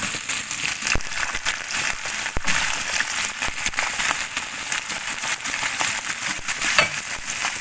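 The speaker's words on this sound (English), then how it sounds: "I've already heated 1 tablespoon of oil in another pan, and I'm just going to throw in the mushroom" Mushrooms sizzling in a tablespoon of hot oil in a pan, a bright continuous crackle and hiss broken by sharp pops and stirring scrapes.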